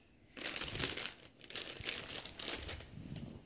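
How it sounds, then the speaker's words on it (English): A bread mix packet is opened and handled, giving close crinkling and rustling of packaging in a few quick bursts with no talk. "You now take the bread mix out of the packet,"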